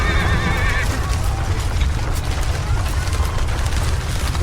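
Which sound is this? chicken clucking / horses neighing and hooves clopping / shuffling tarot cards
horses neighing and hooves clopping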